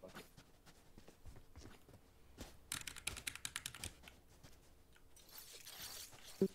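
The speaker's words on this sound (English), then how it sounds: "Even your keyboard's loud." Rapid computer keyboard typing clatters through most of the span, close and moderately loud, with a denser burst of keystrokes near the middle and some soft background noise.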